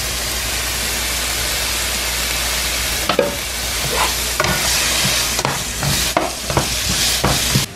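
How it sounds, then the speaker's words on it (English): Vegetables sautéing in a pan with onion powder and garlic, a steady sizzle with intermittent stirring scrapes and clatters in the second half, close and fairly loud, no voices. "I also put onion powder and garlic on my veggies while they're sauteing."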